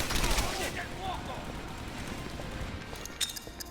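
Light machine gun fire in the World War II shooter Medal of Honor: Airborne, heard as rapid, somewhat distant gunfire bursts that blend with battle noise and someone talking over them.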